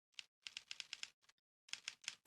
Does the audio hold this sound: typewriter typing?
yes